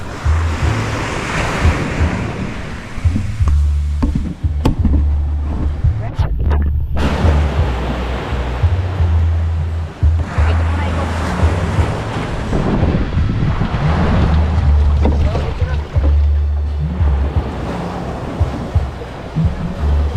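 Sea waves surge and wash around a small fishing boat heading out to set a net, a steady loud roar with gusty wind buffeting the microphone, a low engine drone beneath, and voices talking now and then.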